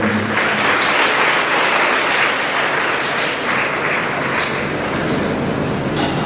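A school audience at a silver jubilee celebration claps together, a dense, even roar of applause that holds steady throughout, loud and close.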